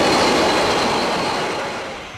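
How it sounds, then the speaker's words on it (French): A train rolls past on the Bordeaux–Sète line, a broad, steady rumble and rush with a faint high squeal, close at first and easing away as the sound fades toward the end. "3 trains sont passés durant le tournage"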